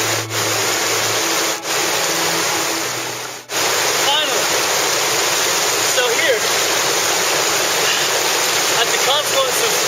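Steady rushing water where two branches of Laurel Creek meet in the Great Smoky Mountains, a broad close roar with a few soft bumps early on.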